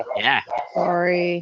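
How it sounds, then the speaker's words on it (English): A dog barks and yips in a home during a tabletop RPG session, a few close, sharp barks around brief speech and a longer sustained whine-like tone at the end. "Sorry for the dog."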